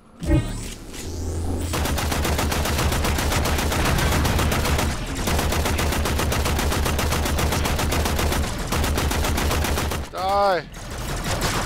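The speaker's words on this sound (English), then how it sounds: "Shooting you in the face" Sustained automatic gunfire in the video game Warframe during a primary weapon proficiency training session on Xbox One, a loud dense rapid-fire stream with short breaks and a swooping effect near the end.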